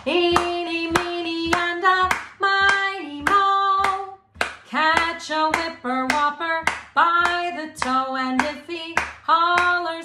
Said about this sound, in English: Now, we're gonna clap our hands and sing at the same time.